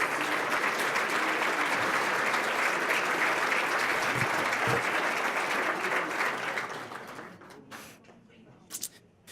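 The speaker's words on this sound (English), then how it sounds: "Another big round of applause to all our award winners," An audience at an annual air-quality summit applauds award winners, sustained dense clapping that tapers off over the last few seconds into a few scattered claps and quiet room noise.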